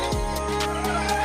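Native chickens call at feeding time with a throaty, gobble-like cry, then overlapping clucks and squawks from the flock, close and steady across the whole moment.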